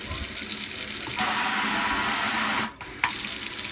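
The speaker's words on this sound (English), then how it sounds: "Turn the water back on outside, and we have ourselves a nice" Water runs from a newly installed kitchen faucet into the sink, a steady close hiss that surges louder partway through, breaks off briefly and then resumes.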